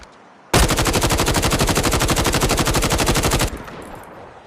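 Loud automatic gunfire in the video game Call of Duty Mobile, one continuous burst of rapid, evenly spaced shots lasting about three seconds, then cutting off abruptly into quiet ambience.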